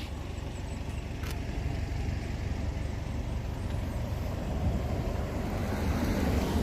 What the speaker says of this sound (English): Just let that car go by.